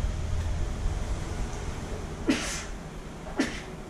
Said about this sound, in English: I gotta sneeze in a moment.